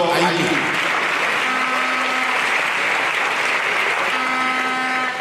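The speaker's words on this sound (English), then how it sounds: "A round of applause for Professor Akhigbe." Sustained applause from an audience at a university inaugural lecture, a dense steady wash of clapping at even loudness throughout, with a faint voice or tone briefly audible underneath.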